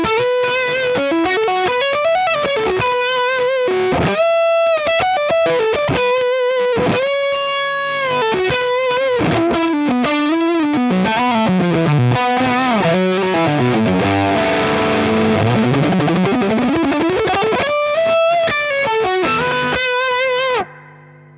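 An electric guitar plays distorted riffs and bends through channel 3 of a Mesa Boogie Road King amp, a loud, fuzzy-edged gain tone with sustained notes and choppy phrases, with no talking over it.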